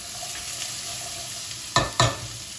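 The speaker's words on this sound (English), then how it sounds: "you don't want to colour them, you just want to get them nice and soft. Get them well sauteed" Carrots and onions sauté gently in a pan, giving a soft continuous sizzle close by, broken by two sharp clatters of a utensil stirring, with no voices.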